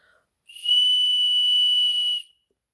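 A folk toy whistle, blown through its tail, gives one steady, shrill tone held for about two seconds, loud and close with no talking.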